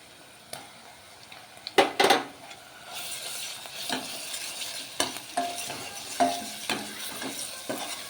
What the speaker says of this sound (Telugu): ఈ విధంగా వేగిని ఉల్లిపాయలు అల్లం ఎల్లిపాయ పేస్ట్ వేసుకుందాం